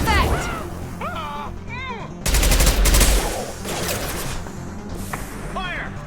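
Gunfire in the Mass Effect video game comes as a loud burst of rapid shots in the middle, amid sci-fi combat effects with sweeping electronic tones, and voices are heard around it.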